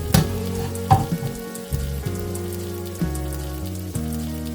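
Cut bread stirred with pav bhaji masala in a hot pan, a steady crackling sizzle broken by several scraping stirs and soft knocks of the spatula.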